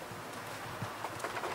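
Soft cooing of racing pigeons over a hissy background, low and brief.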